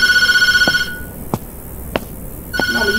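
In the Tattletail horror game, a telephone rings with a loud electronic trill, breaks into a quiet pause broken by a few soft thumps, then starts ringing again.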